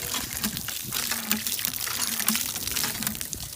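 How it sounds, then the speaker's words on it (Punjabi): Water gushes from a hand pump on a newly bored well, with slight silt in it; a steady close splashing flow with faint rhythmic creaks of the pump handle underneath. "ਅਸੀਂ ਨਲਕਾ ਲਾ ਕੇ ਤੇ ਚੈੱਕ ਕੀਤਾ ਕਿੰਨਾ ਪਾਣੀ"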